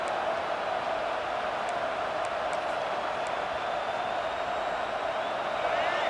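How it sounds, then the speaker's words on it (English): A stadium crowd in a college football video game, Nebraska versus Kansas, giving a steady, dense roar that holds at an even loudness throughout, with a commentator's voice audible. "This crowd, full throat, spreading the eardrums and letting them know it's going to be a long day."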